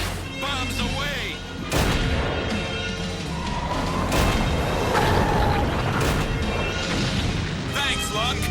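Cartoon bombs explode in a Robotech battle scene, a series of heavy booms and crashes over a few seconds, loud and close, with whooshing effects, laser-like tones and a voice speaking amid the blasts.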